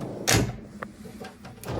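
A metal drawer in a tool chest full of wrenches slides open with a quick loud rolling thud, followed by faint clicks and a light rattle of the tools inside.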